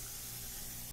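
An HVLP spray gun applies Ultra Ever Dry hydrophobic coating with a close, continuous airy hiss that holds steady, then cuts off abruptly at the very end.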